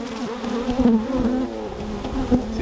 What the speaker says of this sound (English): It's just a normal bee sound.